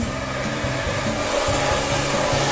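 A blow dryer runs continuously at close range as short hair is pushed forward while styling, a loud, steady whooshing roar with a low motor hum and no speech.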